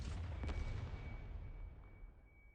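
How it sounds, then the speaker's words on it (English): A single heavy artillery shell blast in the game Arknights, a loud low rumbling boom with a sharp crack early on that rolls off slowly into a fading, far-reaching roar. "That's an artillery shell"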